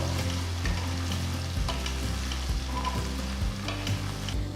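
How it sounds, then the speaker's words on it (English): Ground onion paste fries on a low flame, giving a steady soft sizzle with repeated scraping stirs of a spoon across the pan, close by and without any talking. "now add the ground onion paste, keep the flame on low"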